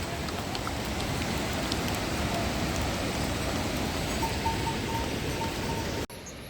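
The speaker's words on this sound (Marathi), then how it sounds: "पाऊस पण आला मस्त" Steady rain falling on a trip toward Kedarnath, a dense even hiss of drops close to the microphone that cuts off abruptly near the end.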